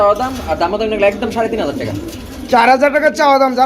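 Pigeons coo with soft, rounded calls in a room where pigeon pairs are being sold, heard under continuous nearby talking by people.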